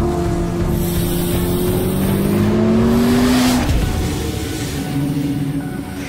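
A Chevrolet Corvette C8 ZR1 engine revs up and down in a rising, swelling roar, loud and steady for several seconds with no voices.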